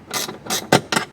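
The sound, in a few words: ratchet spanner tightening roof top tent bolts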